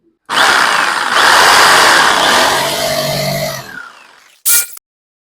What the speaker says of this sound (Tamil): இப்போ மார்க் பண்ண ஏரியாவை கட் பண்ணிக்கலாம்.